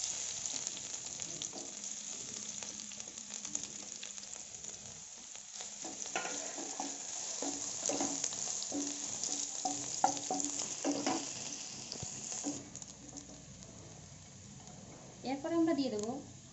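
Bay leaf, ginger and crushed garlic frying in oil, a soft continuous sizzle with scraping stirring strokes in the middle and a brief rattle near the end, with a voice speaking over it.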